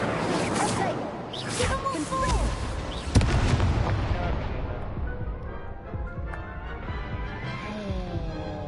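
A fire spell cast in Hogwarts Legacy bursts out as a loud, booming blast, with a sharp crack partway through and a rumbling roar underneath. Game noise and voices overlap it.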